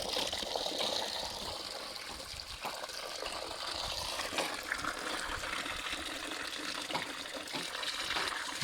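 Water pours steadily from an opened tap in a Nepali village, a continuous broadband rush that stays even and fairly close throughout, with no talk over it.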